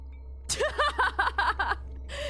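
A video game sound effect tied to a butler character: a quick run of about six voiced, chuckle-like yelps followed by a longer drawn-out tone, over a steady low hum.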